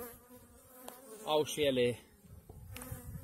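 Honeybees in a barrel hive buzz steadily while a queen pipes in short, tonal harmonic bursts that rise above the hum midway through; a brief voice is heard near the end.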